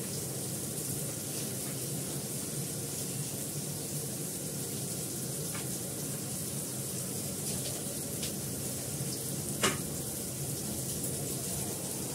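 Food sizzling steadily in a pan as it fries, a constant hiss with a faint crackle now and then, loud and close with no talk.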